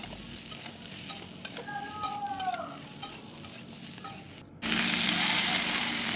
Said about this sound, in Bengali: এরপর হালকা নাড়াচাড়া করে আমি সেদ্ধ করা কাঁঠাল বীজ ডাটা আর আলুগুলো দিয়ে দেবো